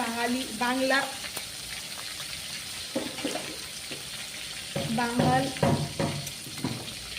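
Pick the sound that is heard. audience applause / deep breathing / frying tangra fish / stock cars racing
frying tangra fish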